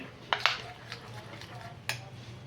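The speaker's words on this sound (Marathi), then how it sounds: "एकदम चांगलं व्यवस्थित आपल्याला मिक्स करायचं आहे चमच्याच्या साह्याने" A metal spoon scrapes and taps against a bowl while mixing cornflour paste, a few sharp clinks and soft scraping strokes, close but fairly quiet over low background hum.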